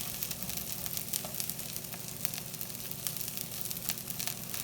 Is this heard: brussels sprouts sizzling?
yes